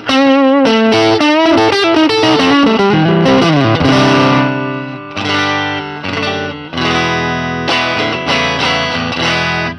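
An electric guitar on its neck pickup plays through an Achillies NYX 5-watt single-ended Class A amp in drive mode. Overdriven chords and single-note runs come out loud and close, with a short pause midway.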